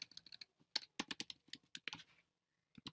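Typing on a computer keyboard, a quick run of sharp clicking keystrokes in bursts with a short pause before a final few taps, close and clear with no voices.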